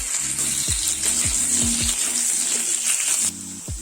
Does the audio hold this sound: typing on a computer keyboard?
no